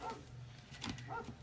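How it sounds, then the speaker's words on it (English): Several short barks from a dog on a busy farm, heard at a distance in the background, spaced irregularly across a low steady hum. "You can probably hear my dog barking in the background."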